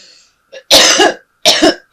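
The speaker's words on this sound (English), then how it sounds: "I've had a very bad cough for the last week, and now it's re-emerging." A person coughs and clears their throat in a few harsh, close bursts separated by short silences.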